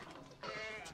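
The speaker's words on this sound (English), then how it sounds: "She's a big sheep, isn't she?" Sheep at a Scottish livestock market give a loud, sustained bleat lasting about half a second, standing out over a noisy pen background.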